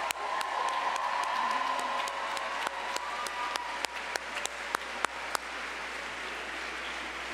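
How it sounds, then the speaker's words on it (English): An audience applauds at a student theater awards gala, sustained clapping with a few scattered whoops, gradually thinning out as individual sharp claps stand out near the end. "Give yourselves a round of applause."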